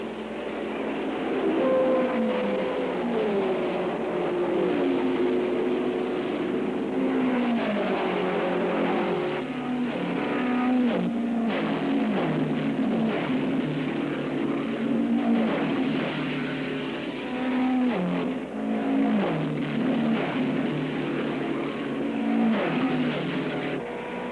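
Race cars in the 1964 Indianapolis 500, rear-engine entries among them, roar continuously at close range, a dense wash of engine noise with shifting pitch sweeps as cars pass, no talk over it.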